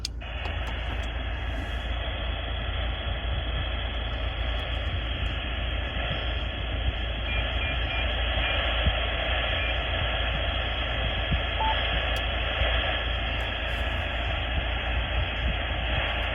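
A UHF radio receiver hisses with a steady, loud band of static and faint crackles throughout, no voices coming through.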